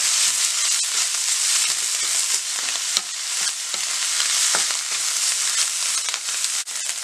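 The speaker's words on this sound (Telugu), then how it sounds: "1 నిమిషం ఇలా ఫ్రై చేసుకోవాలి" Loud, constant sizzling of scrambled egg with fresh coriander frying in a pan, punctuated by scraping stirs of the spatula, close up and without talk.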